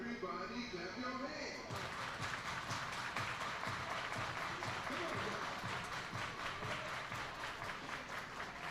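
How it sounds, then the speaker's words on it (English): Crowd at a minor league baseball game between the Reading Fightin Phils and Akron RubberDucks claps hands in a dense, steady wash that fills the stands for several seconds, with voices talking over it. "Everybody clap your hands."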